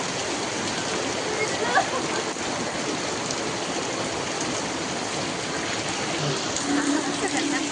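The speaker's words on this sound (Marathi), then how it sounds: "लय पाऊस आहे सकाळपासून बघ" Heavy rain pours continuously, a dense steady roar of drops splashing on surfaces and running water, close and unbroken, with faint voices at times.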